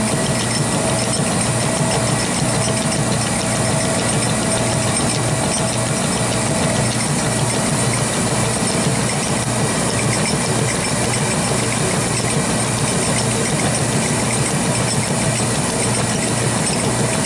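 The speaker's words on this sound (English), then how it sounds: "this BS grinder fixture, as best we can tell, was built somewhere in the 1940s. Still running fine." A 1940s grinder fixture runs steadily while regrinding a 1-inch 82-degree center reamer, giving a continuous motor hum with a faint high whine and light vibration throughout, loud and near, with no talking.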